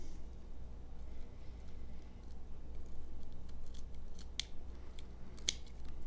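A budget Flissa multi-tool's blades cut through material with a few sharp snips and crunches over low, steady background hum, close to the microphone.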